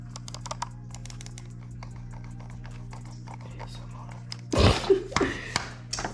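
Keys on a computer keyboard are tapped in quick, uneven bursts of light clicks nearby, followed by a louder burst of handling noise and a short voice near the end.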